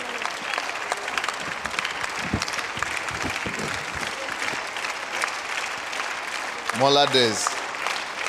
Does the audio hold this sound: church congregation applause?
yes